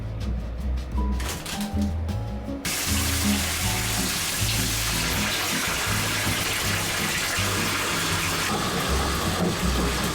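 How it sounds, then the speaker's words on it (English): A bathtub filling from the tap, a loud steady gush of running water splashing into the tub close by, continuous for the whole stretch after a brief rustle at the start. "I'm gonna go get my bath ready."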